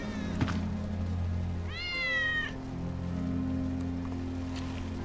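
A single drawn-out meow from Wedge's cat in Final Fantasy VII Remake rises clearly from the middle of the scene, set against a steady low hum and soft patter like rain.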